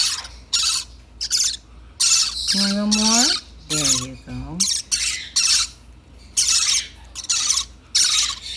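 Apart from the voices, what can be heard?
parrotlet babies chirping and squawking during hand feeding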